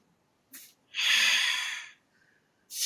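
Sharp, close exhalations during a Pilates exercise: a short puff, then a long forceful breath out lasting about a second, followed by another puff after a quiet pause.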